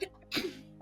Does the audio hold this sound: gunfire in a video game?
no